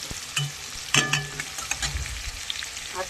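Meat and potatoes frying together in hot oil for a home-style chicken dish, a steady close sizzle broken by stirring clatters and scrapes, with no talking.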